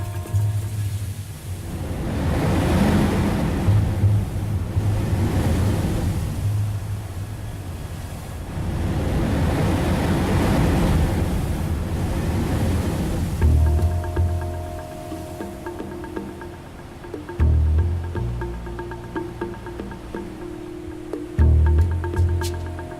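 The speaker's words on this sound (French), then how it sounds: "On appelle ces jets d'eau salée les souffleurs." Sea blowholes on the volcanic lava coast of Réunion in the Indian Ocean, with surging surf whooshing in slow, rolling waves of spray, followed by lower rumbling and swells fairly close by.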